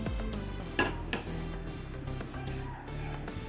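A kadai, or wok, set down on a gas stove before oil goes in for frying donuts, a quick series of close metallic clanks and knocks with one sharper bang near the start, then lighter rattles.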